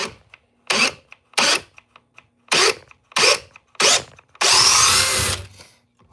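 A Craftsman cordless power tool with a 9-amp-hour battery drives a 5-inch fastener in short, loud bursts, several spaced pulses of whirring and grinding, ending in one longer, rougher run.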